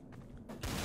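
A burst of gunfire in the online shooter game Trouble in Terrorist Town, a sharp blast breaking in after a quieter moment, loud and brief.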